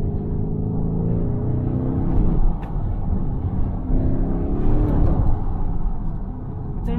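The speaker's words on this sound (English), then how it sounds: "the gear shifts in Corsa are just so aggressive" A Lamborghini Urus in Corsa mode pulls hard on a mountain drive, its engine roaring and rising, cut by abrupt gear shifts that drop the pitch before it climbs again, loud and close from inside the car.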